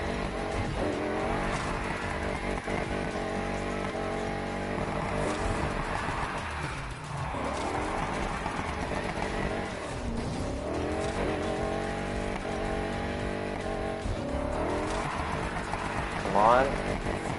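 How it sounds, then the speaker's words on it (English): Video game car spinning its wheels and squealing its tyres through a drift, a steady roaring engine and screech running continuously under someone talking. "Whoa, wheel spin."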